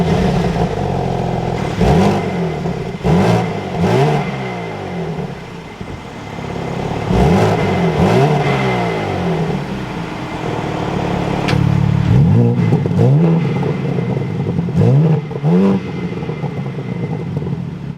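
A 2024 BMW M3 Competition engine fires up and is revved repeatedly, loud sharp blips rising and falling in quick bursts close by, with no talking.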